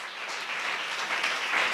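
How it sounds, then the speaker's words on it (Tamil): A church congregation claps hands in praise, making a dense, steady wash of applause that carries on without a break for a short stretch. "தலைக்கு மேல கை தட்டி தேவனை மகிமைப்படுத்துங்களேன்"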